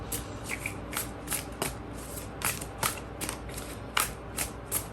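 Close, crisp tarot card shuffling in rapid repeated riffles and snaps, steady rhythm throughout with no talking.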